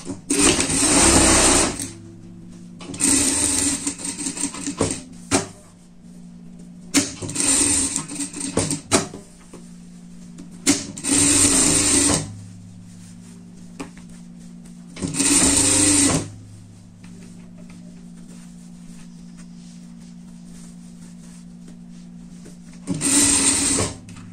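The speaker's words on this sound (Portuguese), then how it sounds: "aqui a gente vai passar uma costura por tudo até aqui em cima" A sewing machine stitches a pet bandana in a series of six loud whirring bursts, each lasting one to two seconds and separated by short pauses.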